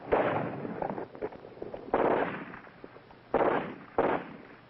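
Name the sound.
sniper gunshot during combat training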